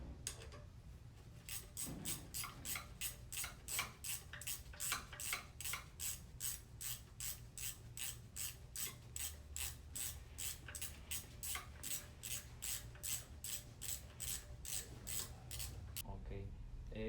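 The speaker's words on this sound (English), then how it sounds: "Those two need to be tightened down with the box wrench because you can't get the gun in there." A box wrench tightens bolts on a Nissan Quest CVT transmission (RE0F09B/JF010E) during assembly, producing a long, steady run of evenly spaced metallic ratcheting clicks at close range.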